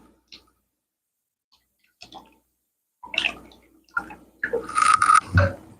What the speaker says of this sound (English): We're going to stir it.